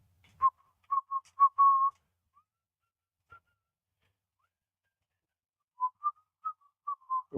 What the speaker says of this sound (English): Is that why he whistled?